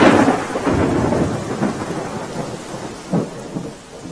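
Heavy rain pours down over Junagadh, with deep thunder rumbling through a dense, steady roar of falling water. The storm stays loud and continuous, with a few thunder swells rising out of it and no voices.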